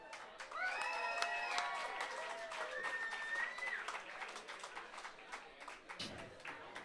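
Applause from an audience at a music competition final, soft and distant, running under a held melodic sound from instruments or voice for most of the stretch.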